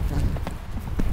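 Horse hooves thudding on ground as the horse changes lead, a quick run of close, muffled beats under low rumbling background noise.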